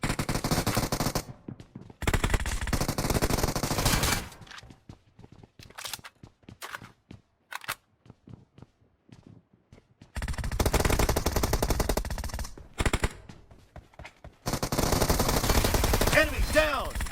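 Rapid bursts of suppressed QBZ rifle fire in the mobile battle game PUBG Mobile, clustered volleys separated by quieter gaps with scattered single shots and footsteps, loud and close.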